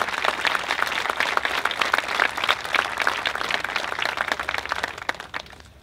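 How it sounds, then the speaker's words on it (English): A crowd at an outdoor 9/11 responders memorial ceremony in a park applauds elected officials, sharp individual claps forming a lively, steady round that tapers off near the end. "Give them a round of applause."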